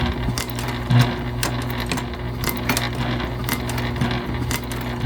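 A sewing machine runs a back stitch on a fabric bag, close and fairly loud, with a continuous rapid needle rattle broken by short pauses and light clicks and no talking.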